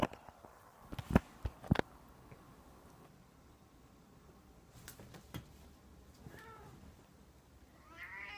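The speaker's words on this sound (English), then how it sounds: "The cats are fighting." Cats fight and meow, starting with a few sharp thumps and scuffles, then drawn-out yowls later on, all fairly faint and somewhat distant against quiet background noise.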